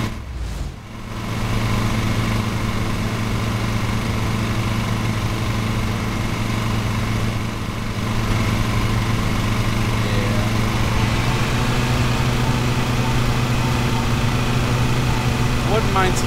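A ride-on lawn mower engine in the Lawn Mowing Simulator video game drones steadily and loudly, an unbroken mechanical hum that runs throughout.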